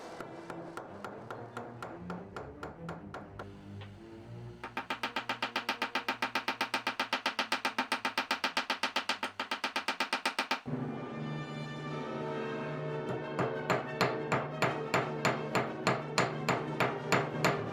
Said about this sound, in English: I'm going to heat my silver until it has a nice orange glow and draw it out with my little hammer